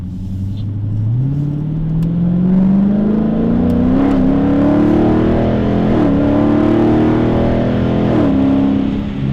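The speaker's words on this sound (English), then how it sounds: "Do you guys hear how quickly the transmission shifts? And like the exhaust is loud in the car" A 2021 Dodge Challenger Scat Pack T/A accelerates hard on the road, its engine climbing in pitch through several quick, crisp gearshifts with a loud exhaust note booming inside the cabin, heard close and continuous without talk.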